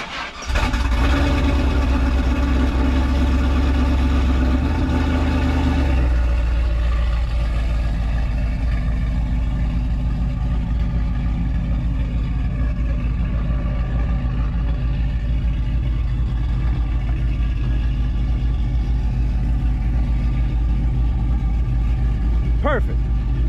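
A short-bed pickup truck's engine fires up and revs hard through its exhaust at close range, then settles into a steady, loud rumbling idle that runs on for the rest of the time.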